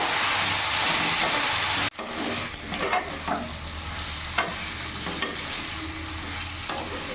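Steady loud sizzling of food frying in a pan, with occasional scraping clinks of a spoon stirring, continuous and close throughout.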